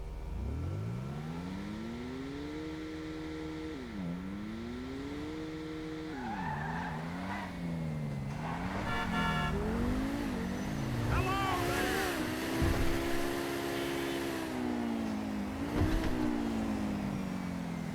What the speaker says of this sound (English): the engine sound is like kind of pathetic sort of sounding